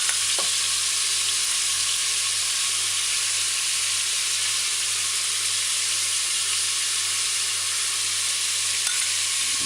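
Pork stew stir-frying with chopped onions and scallion, a loud, steady sizzle and hiss running unbroken and close throughout.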